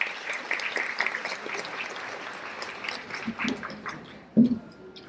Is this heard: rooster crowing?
no